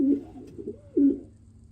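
Pet pigeons or doves coo softly near a nest during egg hatching, with a few low, quiet coos, the last one slightly louder.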